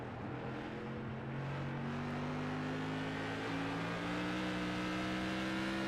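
A race car at a charity racing event accelerates hard down the back straightaway, its engine note climbing steadily and continuously loud throughout, with no voices.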